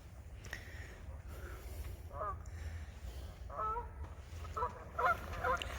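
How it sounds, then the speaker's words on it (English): Canada geese honking out on the middle of the water on a riverside hiking trail, a few scattered nasal honks that grow busier toward the end, faint and distant over a steady broadband outdoor hiss. "Oh, that's the sound of the geese,"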